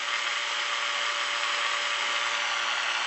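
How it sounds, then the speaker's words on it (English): A vacuum pump connected to an HVAC system runs with a loud, steady, unbroken mechanical drone and hiss at constant level throughout, with no voices. "we're going to turn off our vacuum pump"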